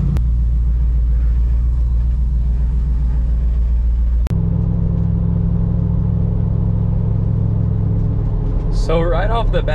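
A Jeep Wrangler JK fitted with ball joint deletes cruising on the road, steady low engine and road rumble heard from inside the cab, with a brief click midway and someone talking over it.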